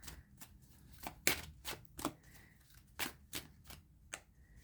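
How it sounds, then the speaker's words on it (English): A deck of playing cards being shuffled, a series of crisp riffling bursts and soft snaps in an uneven rhythm, close but fairly quiet, with no talking over it. "let's give it another good shuffle."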